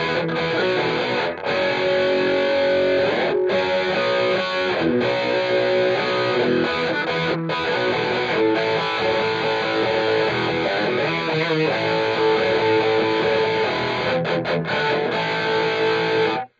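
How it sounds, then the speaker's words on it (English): Electric guitar with a traditional British crunch rhythm tone, playing static chords in a full, steady, loud distorted band mix with no gaps. "a rhythm tone that is based more around a traditional British crunch sort of sound"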